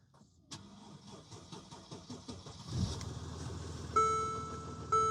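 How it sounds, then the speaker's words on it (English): A Japanese SUV with push-button start, check engine light on, cranks briefly and fires up, settling into a steady idle close by with a couple of faint chimes on top; no talking. "this thing fires right up"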